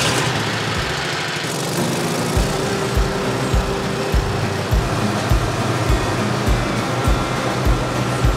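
A four-stroke lawn mower engine runs steadily after an electric start, a loud, close, even drone with a regular pulsing chug and no voices.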